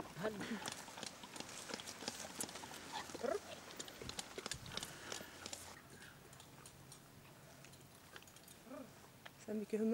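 Hooves clop and scuffle irregularly at close range, mixed with rustling, snorts and occasional voices in the background.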